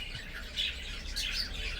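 Cockatiels with newly hatched chicks give brief high chirps and tweets over a low background hum, with two short louder calls standing out in a two-second stretch.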